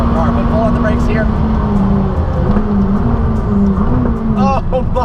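A McLaren 600LT braking hard on a race track, its engine note loud and constant with falling and rising tones as it slows and downshifts, while a voice talks over it.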